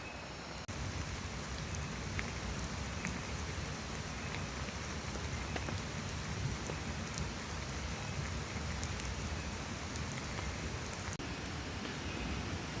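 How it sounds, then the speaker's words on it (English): Steady rain falls on a jungle camp in Bali, a constant soft hiss of drops on surfaces with no letup, fairly faint and even, with no voices. "it moved from drizzling to proper rain"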